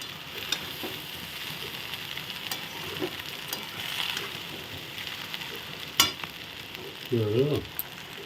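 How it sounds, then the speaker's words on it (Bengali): A vegetarian dish fries in a pan while being stirred slowly, with a constant hiss, occasional spatula scrapes and taps, and a brief murmur near the end. "আস্তে আস্তে করে নেড়ে দিচ্ছি"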